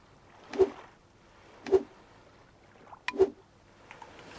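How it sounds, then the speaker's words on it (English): Three separate gulping, sloshing drinks of coconut juice in the survival game Stranded Deep, spaced about a second apart and close up, with a faint watery rumble between them. "Let's drink some coconut juice."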